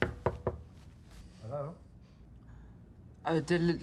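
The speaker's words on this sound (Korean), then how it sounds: "호텔에 도착한 케니는 문을 두드립니다." Knocking on a hotel room door: three sharp raps close together at the start, followed later by a voice speaking.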